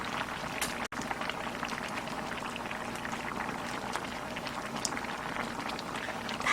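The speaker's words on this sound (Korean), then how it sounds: "자갈자갈 끓고 있죠" Fish stew of yellow corvina and bracken bubbles steadily in a pot, a soft, continuous simmering crackle heard close and fairly quiet, with a brief sharp knock near the start.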